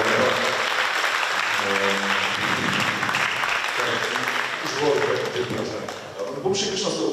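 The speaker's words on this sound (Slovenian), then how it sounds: "Prosim otroci en aplavz za starše, ki se to sigurno posvetijo." Children at a youth basketball event in Vransko applaud their parents, a sustained loud burst of crowd clapping that fades briefly and then swells again, with someone speaking over it.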